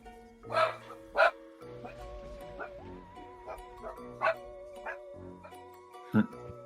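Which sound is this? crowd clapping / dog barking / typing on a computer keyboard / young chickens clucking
dog barking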